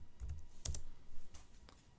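A few quick, faint keystrokes on a computer keyboard, clustered in two short bursts in a quiet room, as python.org is typed into a browser.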